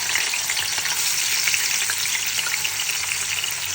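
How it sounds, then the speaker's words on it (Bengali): Hilsa fish pieces coated in chili powder, salt and turmeric fry in hot oil in a home kitchen, giving a steady, loud, continuous sizzle with no talking. "আমি এখন মাছটা ভেজে নেব।"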